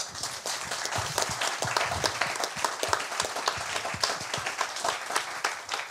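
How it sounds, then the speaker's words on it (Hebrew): An audience applauds a speaker at a panel on fighting violence in the education system at Ono Academic College: dense, sustained clapping from a room full of people, steady and lively throughout. "אני חושב שמגיעות לו מחיאות כפיים"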